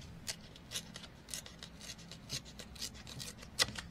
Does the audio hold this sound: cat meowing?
no